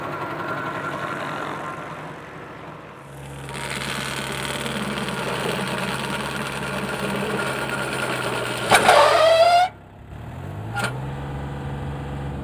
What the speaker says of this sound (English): it's a wonderful engine. It has lots of power at low RPM, and it sounds fabulous